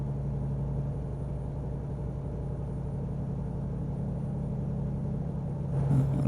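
A truck engine in American Truck Simulator hums at a steady low drone while the rig slows for sharp turns, continuous and close with a slight rise in rumble near the end.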